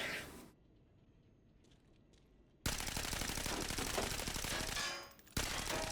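Gunfire in the shooter game Arena Breakout Infinite, a loud sustained burst of automatic fire that follows a near-silent gap, breaks off briefly, then resumes.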